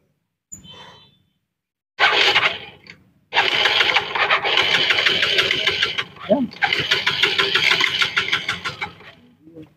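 A motorcycle engine is kick-started on a village road, sputtering briefly, catching after a pause and then running in a rough, loud idle nearby, with a short burst of voice in between.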